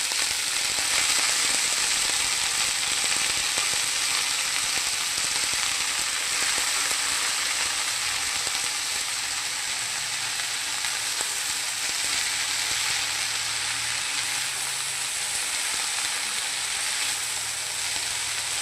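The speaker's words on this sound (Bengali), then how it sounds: "লাল শাক ভাজা" Lal shak, red amaranth greens, fry in a pan with onion, giving an even, continuous crackling sizzle that holds steady throughout, with only faint stirring sounds.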